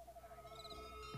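An owl in a cartoon campsite gives a faint, wavering hoot that warbles briefly at night, with no voices over it.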